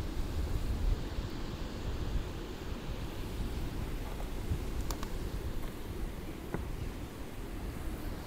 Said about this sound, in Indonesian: Oh, angin kuat lah tu.